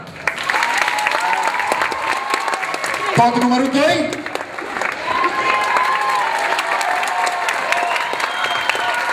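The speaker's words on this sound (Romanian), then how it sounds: "Aplauze, barometrul aplauzelor" A loud, continuous crowd applauding at a freshers' ball applause-meter contest, the clapping filling the hall throughout with cheering mixed in, while a voice briefly speaks over it partway through.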